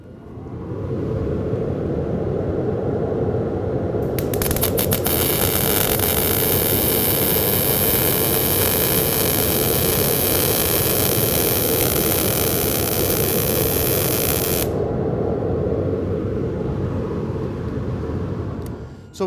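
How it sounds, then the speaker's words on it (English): MIG welding with a long contact tip to work distance gives a loud, continuous crackling hiss that holds steady for most of the clip, with a brighter sizzle through the middle before it stops. "we just made our MIG weld with too long of a contact tip to work distance"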